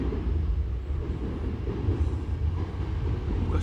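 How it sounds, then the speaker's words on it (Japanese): An electric train rumbles steadily and loudly nearby as it arrives at a Japanese station, a continuous low mechanical roar with faint rattling. "ただいま川西の瀬口方面へ向かう電車が参ります。"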